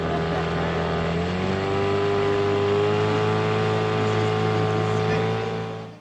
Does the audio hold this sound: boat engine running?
yes